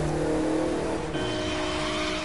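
A car in the video game The Crew 2 swings through a handbrake turn, its engine droning steadily and loudly while tires scrub and squeal with a shift in pitch midway, no voices present.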